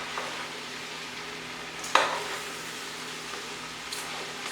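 Cabbage with peppers, onions, leeks and vegan sausage frying in a pan, a steady soft sizzle throughout with one sharp scrape or stir clatter near the middle and another faint one toward the end.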